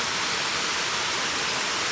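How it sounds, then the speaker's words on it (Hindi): A small river flows close by with a steady, broadband rush of water. The sound is continuous and even, and no voices are heard. "पानी का शोर आपको आ रहा होगा"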